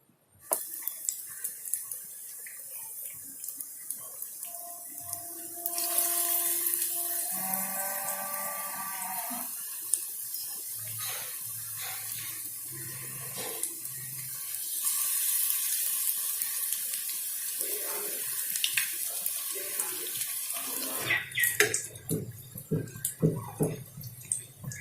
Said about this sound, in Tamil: இதை எண்ணெய்க்குள்ளே போடலாம்